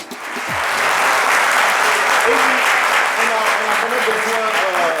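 A studio audience on a television talk show breaks into loud, sustained applause that swells quickly and holds steady, with faint voices and cheers mixed into the clapping.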